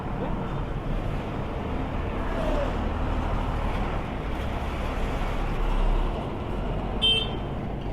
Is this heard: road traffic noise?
yes